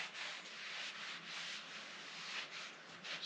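Steady hand rubbing of a finish into a wooden surface, a continuous close-up swishing friction with gentle rhythmic surges, heard alone without voices.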